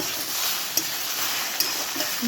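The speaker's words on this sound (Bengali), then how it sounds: "এবার হচ্ছে আমি ভালো করে আবার নেড়ে নেব" Okra curry seasoned with chili powder and salt being stirred in a pan, a steady soft sizzle with two sharp clinks of the utensil against the pan.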